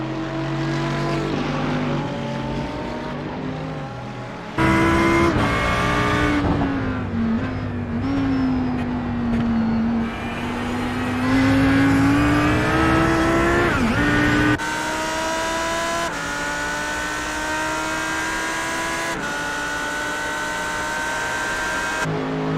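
Mercedes and Audi race cars lapping Daytona in a racing video game, loud continuous engine whine shifting pitch up and down through gear changes, with abrupt cuts between camera views and no talk.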